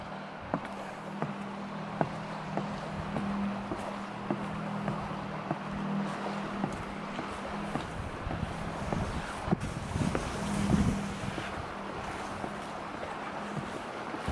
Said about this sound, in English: I'll apologize if it gets windy down here.